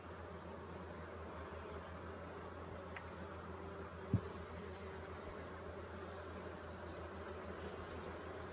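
Honey bees drone in a steady, dense hum around an opened hive during an inspection, a constant close buzzing with one faint tap and no talking.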